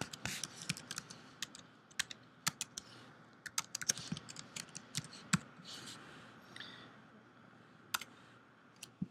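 Computer keyboard keys are typed in uneven bursts of sharp clicks over about nine seconds, fairly close and clear, with short pauses between runs of keystrokes and no talking.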